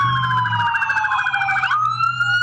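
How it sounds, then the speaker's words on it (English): Police car sirens wail along a street, a loud, continuous wavering electronic tone that sweeps and shifts pitch, with no voices over it. "Police sirens heading up the street."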